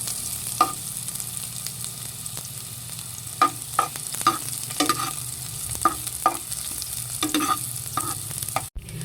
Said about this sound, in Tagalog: bali ako po ay nagigisa na nitong bawang at sibuyas.